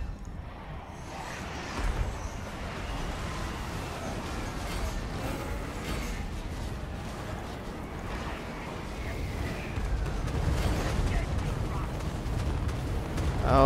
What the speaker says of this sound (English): Got a lot of gunfire coming on my guys right now.